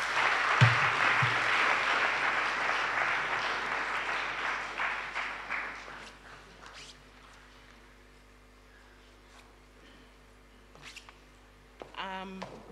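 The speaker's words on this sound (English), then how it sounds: "a hand of applause" Audience applause greets the NITA chairman at the launch of the NITA Strategic Plan 2023-2025, a sustained clapping that dies away after about six seconds into a quiet room, with a short burst of other sound near the end.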